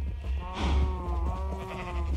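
Sheep bleating in a video game: a single loud, drawn-out bleat with a wavering, nasal tone rises in the middle and trails off over steady background game ambience, with no talking.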